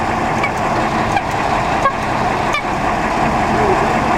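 A vintage car's horn at the 2012 Pebble Beach Concours gives a few short, duck-like honks over steady, loud outdoor crowd and motor noise.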